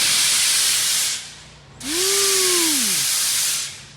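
Two loud bursts of pressurized nitrous oxide hiss out in sharp sprays, the second with a whining squeal, separated by a brief pause.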